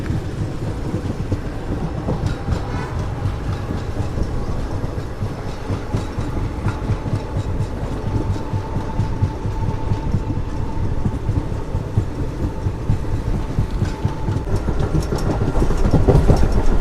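Seven Hills SF Express passenger train running on rails near Dharmavaram Junction in Rayalaseema, a steady loud rumble with rapid clickety-clack of wheels over joints throughout, swelling slightly toward the end.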